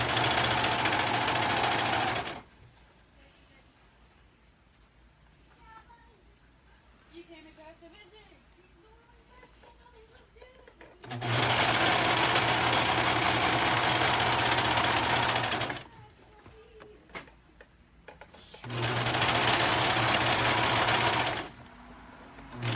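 A sewing machine stitching elastic, fast and loud, running in three long bursts separated by pauses filled with a voice explaining and quieter handling sounds.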